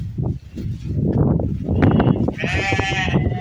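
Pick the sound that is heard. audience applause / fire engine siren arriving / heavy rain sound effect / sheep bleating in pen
sheep bleating in pen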